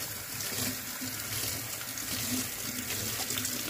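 Tap water runs steadily into a sink as a paint brush is rinsed out, a continuous close splashing stream with no talk over it.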